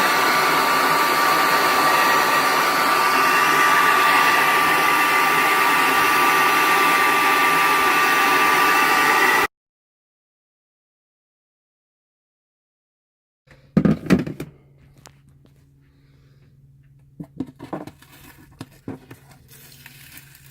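Heat gun blowing on RV roof wallpaper: a steady close whooshing blower hum for about nine seconds, then silence, followed by scattered scraping, peeling and handling noises.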